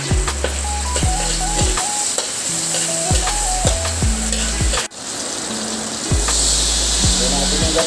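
Garlic, onion and ginger sizzle steadily in a frying pan while cooking ginataang gabi, a continuous oily crackle running the whole time under background music, with a brief dip midway.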